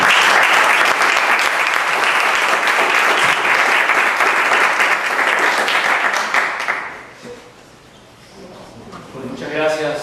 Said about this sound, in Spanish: les pediría un aplauso de bienvenida para el doctor